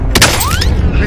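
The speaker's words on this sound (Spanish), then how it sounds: "¡Me están disparando!" Loud gunfire in the video game Warzone Pacific, a short close burst of shots with a whistling streak overhead, over a dense rumbling game backdrop.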